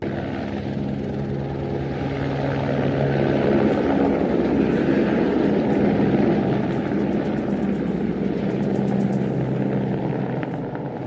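A helicopter at the Kedarnath helipad, its rotor and turbine giving a steady droning whir that swells slightly louder midway and then eases, heard at a moderate distance with no speech.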